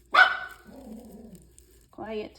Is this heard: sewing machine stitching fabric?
no